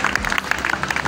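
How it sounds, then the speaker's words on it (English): Schoolchildren on a visit to a fire station clap for a fireman, a short burst of quick, uneven hand claps close by. "Let us clap for him."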